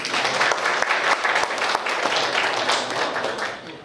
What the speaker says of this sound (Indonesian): Baru sekarang, tepuk tangan dulu.